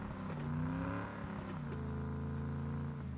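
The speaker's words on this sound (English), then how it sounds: "Someone over here we just heard in a car." Car engine in the game PUBG droning nearby, a steady revving hum that rises and dips as the vehicle moves, fairly quiet and continuous throughout.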